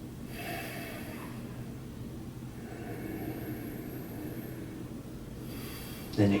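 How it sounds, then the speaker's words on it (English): Deep, slow breaths during a hatha yoga twist, with long airy inhales and exhales rising and falling over several seconds against a steady room hiss, close and soft. "Take a couple deep breaths here."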